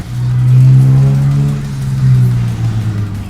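A Toyota Supra engine revs loudly and close after a downshift into first gear, a deep sustained roar that swells, dips slightly and holds.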